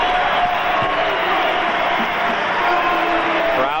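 A sellout arena crowd at a 1998 Illinois State vs Bradley college basketball game at Carver Arena, a dense sustained roar of cheering and voices with a commentator talking over it.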